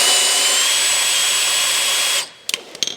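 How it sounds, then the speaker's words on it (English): A power drill used as an impact driver whines loudly and steadily on exhaust bolts for about two seconds, then stops, followed by a few sharp metallic clinks and taps. "switch to our impact / drill"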